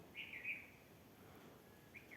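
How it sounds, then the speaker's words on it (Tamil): Birds call at dusk in a rural treed area where crows, sparrows and peacocks gather, heard as two faint, thin chirping calls over a quiet hiss, with no voices. "காக்கா சத்தம், குருவி சத்தம், மயில் சத்தம்"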